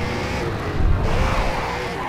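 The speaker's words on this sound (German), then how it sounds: "Da bin ich ein bisschen zu doll mit der Handbremse umgegangen." A race car skids under a hard handbrake pull in Race Driver GRID, giving a loud, continuous roar of engine and scrubbing tyres that swells slightly midway through the two-second slide.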